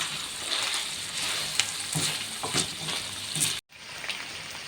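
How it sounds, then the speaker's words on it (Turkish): Onions caramelizing in a pan for saç kavurma, with red and green peppers added, make a loud, dense sizzle with a few stirring clicks and a brief cut near the end. "Soğanlarımız biraz daha karamelize olana kadar pişsin."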